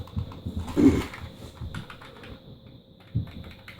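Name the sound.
typing on a rubber dome computer keyboard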